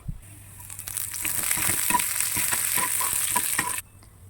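Garlic and fish roe stir-fried in a hot pan in a home kitchen, hissing loudly while a spatula scrapes and tosses in a quick, uneven rhythm. It cuts off sharply near the end.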